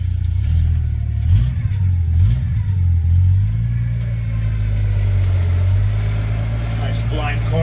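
A 1986 Ford F250 4x4 truck with a 4.9-litre 300 inline-six drives down the road, its low steady engine hum rising and falling slightly with throttle, close and continuous.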